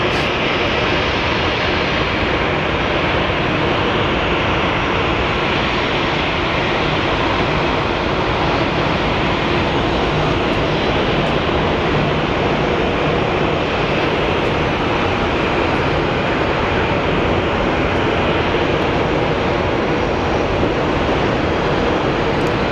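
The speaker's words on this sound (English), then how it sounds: "we have our Southwest 3642. This plane is going to be going to Long Beach." Southwest Airlines jet at Phoenix Sky Harbor Airport, a steady loud broadband roar of aircraft engines holding throughout without clear talk.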